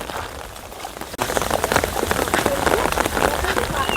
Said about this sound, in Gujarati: ચાલુ જ છે વરસાદ